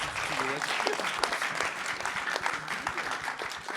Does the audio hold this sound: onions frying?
no